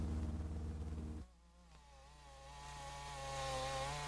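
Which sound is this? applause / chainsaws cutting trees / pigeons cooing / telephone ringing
chainsaws cutting trees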